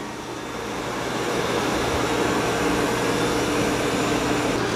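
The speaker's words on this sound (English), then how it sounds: "they're both doing a pretty good job as far as mopping and vacuuming." Dreame L20 Ultra and ECOVACS DEEBOT X2 Omni robot vacuums mopping and vacuuming together, giving a steady, even whirring hum that holds without pause.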